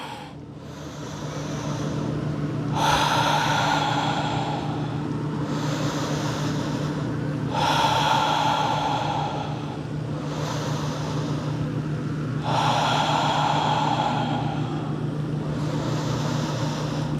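A yoga instructor takes slow, deep breaths in and out during a lunge. Long, airy swells of breath rise and fall about every few seconds, close and fairly loud over a low hum.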